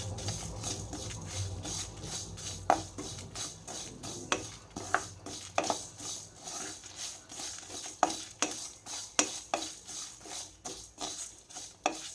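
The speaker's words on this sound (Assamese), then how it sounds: "এই মছলাখিনি যেতিয়ালৈকে অকণমান গোন্ধ নোলায় তেতিয়ালৈকে অকণমান ভাজি থাকিব।" Mustard seeds, cumin and coriander seeds roast dry in a pan with a faint crackle while a utensil scrapes and stirs in a steady rhythm of clinks, near and fairly quiet.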